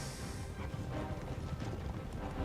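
Cavalry regiment charging in a historical strategy game, dense continuous rumble of many galloping hooves with no clear gaps.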